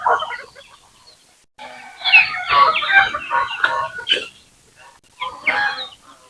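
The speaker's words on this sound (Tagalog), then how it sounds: "Yung manok na lang marami dito mga idol." Native chickens clucking on a farm range, close and fairly loud, with a short pause before the calls resume in irregular bursts.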